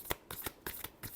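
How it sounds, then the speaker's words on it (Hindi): Tarot cards being shuffled by hand in a short burst of about six quick, crisp riffling flutters, close and fairly quiet with no talking. "Last shuffle."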